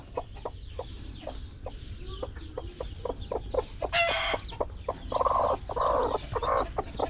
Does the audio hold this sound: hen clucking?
yes